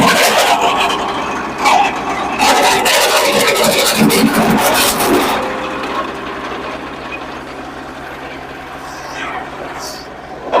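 A PAICHE wood chipper chopping firewood sticks, a loud engine-driven machine with bursts of crunching and cracking as wood goes through, then settling into a steadier running drone.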